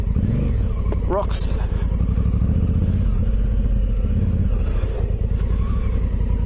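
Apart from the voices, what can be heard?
Honda Africa Twin motorcycle engine revving off-road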